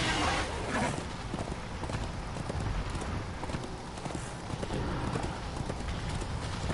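Steady hoofbeats of a summoned horse galloping in the video game Darksiders II clatter continuously over a dense, busy game soundscape, with an occasional faint whinny.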